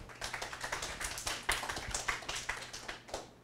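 Small audience at a software developer conference clapping to welcome the speakers, a light, fairly close scatter of claps that holds steady for a few seconds.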